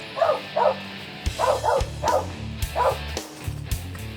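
Hunting dogs treeing squirrels outdoors, barking in short bursts of two or three quick yips and bow-wows, fairly close and loud, with low rumbling background and no talk.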